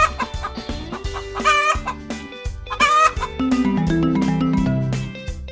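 A hen clucks in a lively farmyard scene, with repeated short calls over steady background music.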